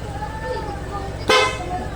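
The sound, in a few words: loud motorcycle horn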